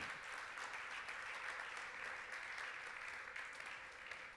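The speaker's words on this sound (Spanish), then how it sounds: "Le das aplauso al Señor." A church congregation claps together during a Friday worship service, a steady, evenly sustained wash of applause heard from some distance, faint overall.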